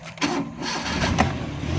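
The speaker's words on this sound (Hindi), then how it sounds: "देखें गाड़ी हमारी स्टार्ट हो गई है।" Suzuki Bolan engine catching and starting after being refuelled from a bottle, a loud close crank turning straight into a steady running idle with a mid-range rumble.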